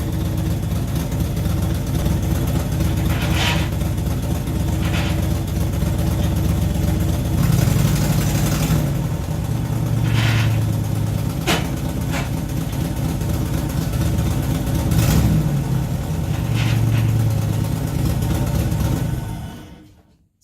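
Holden VP Commodore engine idling steadily after a new exhaust fit, a continuous low rumble with a few slight rises in revs, holding close and fairly loud throughout before cutting off at the end.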